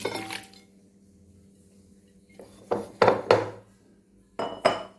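Peeled mandarins emptied into a big bowl, a few soft thuds and squishy bumps against the bowl in short clusters, with light clinks in between.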